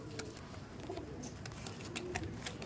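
Pigeons cooing in a loft in Barrackpore, soft repeated throaty coos from several birds close by, low and steady with faint rustling and background murmur.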